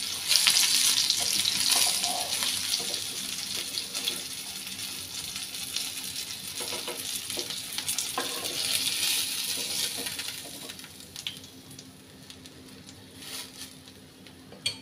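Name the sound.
stuffed mackerel frying in a pan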